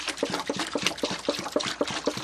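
Whole milk, a full gallon, poured steadily into a saucepan, a close, continuous liquid glug and splash with a quick regular pulsing rhythm, heard alone without talk.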